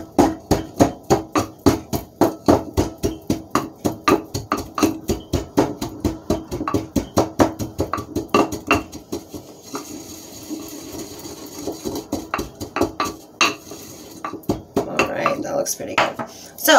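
Herbal powder mixture ground by hand, likely with a mortar and pestle, giving a steady run of rapid, sharp clacking strikes that loosen into a softer scraping rattle later on.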